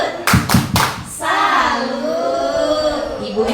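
A group claps the tepuk salut pattern, a few loud, sharp synchronized claps, followed by a hum of voices.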